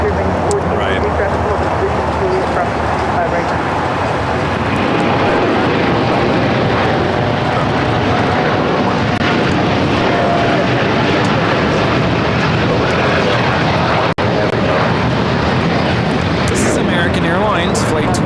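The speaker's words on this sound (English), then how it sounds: "Airlines Flight 27 taking off to Tokyo Haneda on the 787-8 Dreamliner." A Boeing 787-8 Dreamliner on its takeoff roll at LAX, bound for Tokyo Haneda, its engines a loud broadband roar that fills the whole stretch steadily, with voices talking over it.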